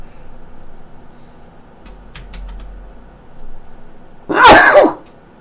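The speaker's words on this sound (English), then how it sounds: "I'm going to sneeze in a minute." One sharp, loud sneeze bursts out near the end after a few quiet clicks over low background hum.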